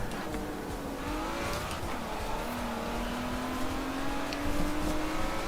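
An Aston Martin engine in Forza Horizon 4 drones steadily and rises in pitch as it accelerates, a continuous mid-loud car sound with no voices over it.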